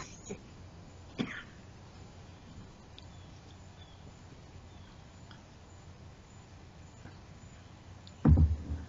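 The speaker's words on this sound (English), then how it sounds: "cough and choke like I do once in a while" A man lets out a short, faint cough early on, then a louder, harsh cough near the end, with long near-silence between them.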